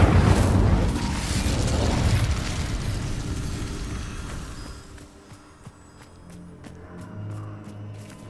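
A burst of fire from the Incendio spell in Hogwarts Legacy, a loud whooshing blast that fades over several seconds into quieter rumbling and small crackles.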